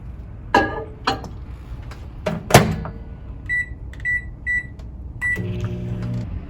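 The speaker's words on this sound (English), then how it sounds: "Now you want to pop this into your microwave for 2 minutes or until the topping rises." Microwave oven running with chicken pot pie in a mug, steady hum under a few clunks of the door and handling, a series of short beeps, then a lower tonal drone as it cooks; no talk.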